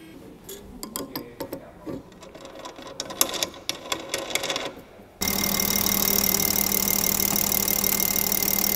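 A fuel injector cleaning and testing machine for direct-injection gasoline injectors runs, first with irregular clicking and ticking, then switching abruptly to a loud, steady mechanical whirr.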